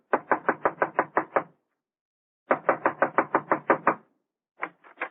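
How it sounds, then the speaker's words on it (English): Two quick bursts of rapid knuckle knocks on a door, about eight raps each, separated by a pause, then a few softer knocks at the end. "I'll knock on the door."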